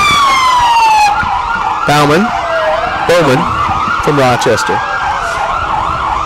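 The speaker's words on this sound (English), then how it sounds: "Loud sirens, always part of the parade." Loud sirens from emergency vehicles rolling in a small-town summer festival parade, wailing and sweeping up and down close by, with repeated short yelping bursts cutting in; someone talks briefly over them.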